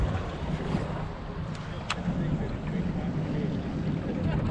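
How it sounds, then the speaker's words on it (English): Light breeze buffets the microphone aboard a fishing boat on a hot, sunny summer day, a steady airy rush with low rumble throughout and a faint voice murmuring underneath. "Well, the breeze just started"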